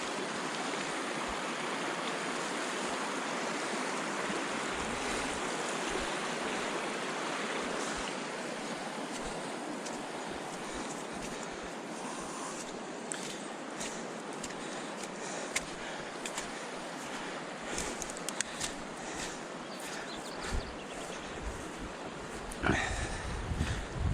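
Steady rushing water from a mountain creek fed partly by snowmelt, flowing strongly along a backcountry basin on a backpacking route; a constant broadband wash close by, with occasional brief knocks and no voices.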